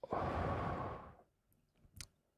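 A single deep breath out, a long breathy exhale close to the microphone that fades after about a second, followed by a faint short intake.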